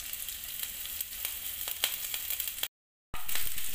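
Green chillies sizzle in hot oil while making veg momo filling: a steady, close frying hiss with sharp crackles throughout, broken by a brief cut to silence before the sizzle resumes; no talking.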